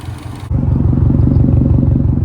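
A Subaru WRX engine idles steadily up close, with a loud, even low rumble and a rapid pulsing beat that starts abruptly after a brief quieter moment.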